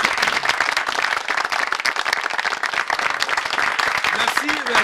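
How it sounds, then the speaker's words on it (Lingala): Audience applauding a choir at a Kinshasa choral event, dense steady clapping from many hands filling the whole stretch, close and loud with no voices over it. "Une fois de plus, on acclame la chorale."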